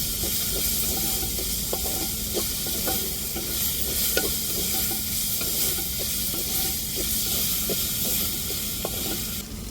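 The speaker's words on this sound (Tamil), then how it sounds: "இஞ்சி பூண்டு பச்சை வாடை மாறத்ததுக்கு நம்ம நல்லா வதக்கி விட்டுக்கிடுவோம்" Crushed ginger and garlic fry in oil in a pan, giving a loud continuous sizzle with repeated stirring scrapes throughout and no talking.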